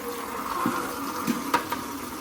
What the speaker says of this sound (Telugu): ఇప్పుడైతే నీళ్ళు నింపుతున్నాయి. అయితే బకెట్ తెచ్చుకున్నా.